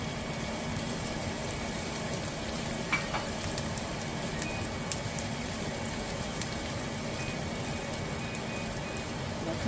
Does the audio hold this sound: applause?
no